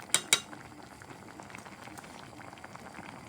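Shrimp sinigang, a sour Filipino soup, boils steadily in a pot, a soft continuous bubbling and simmering close by, with two sharp utensil clinks near the start.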